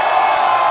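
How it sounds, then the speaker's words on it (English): Live crowd at a USO concert cheering and applauding, a dense steady wash of clapping and shouts, loud and close throughout. "So how about a round of applause and showing our appreciation for them?"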